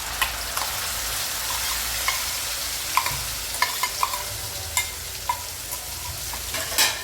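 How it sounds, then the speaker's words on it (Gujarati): Asafoetida and chutney dropped into hot oil in a pan, crackling and sizzling steadily with sharp pops and spatters scattered across the whole stretch, close and fairly loud, no voices. "હવે તેમાં આપણે હિંગ એડ કરીશું અને આ ચટણી એડ કરી દઈશું"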